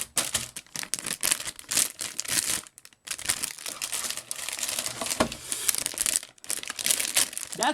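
Crinkly plastic packaging around a large sticker sheet being handled and pulled open, continuous close crackling and rustling with short pauses, no talking.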